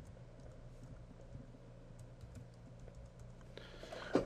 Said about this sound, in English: I just typed 13 characters on the keyboard